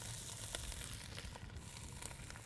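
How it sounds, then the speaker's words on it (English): Peppers and tiny haricots verts sauteing in olive oil give a steady, soft, close-up sizzle with faint scattered crackles throughout, no one speaking. "Now we're gonna saute our second tier of vegetables, which is the peppers and the little tiny green beans, the haricots verts."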